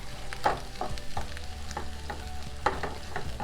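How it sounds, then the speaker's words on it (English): Jackfruit and onion pieces frying in oil are stirred in a pan, with a steady sizzle under a series of sharp spoon scrapes and clicks against the pan every half second or so, close and moderately loud. "I'm going to give it a stir"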